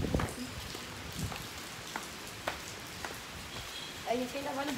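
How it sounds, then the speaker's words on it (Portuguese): Steady rain falls during an outing to Big Jump USA, a dense continuous patter with occasional louder drops, while people talk over it. "No, meu Deus, aqui a chuva tá."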